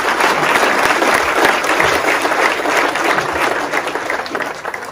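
Applause from an audience at a mayor's New Year's greetings ceremony follows the speech. The clapping is steady, dense and loud throughout, with no talk over it.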